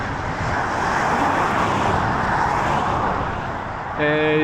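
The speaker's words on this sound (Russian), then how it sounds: "сзади так много машин, что шум такой" Broad steady roar of heavy traffic from many cars on the road behind, a continuous wash of engine and tyre noise with a tonal chime entering at the end.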